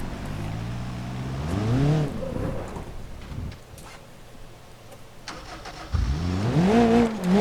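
A car in BeamNG.Drive revs its engine hard, pitch climbing through the gears, then eases off to a low rumble before a second rising rev, with rain-like background noise throughout.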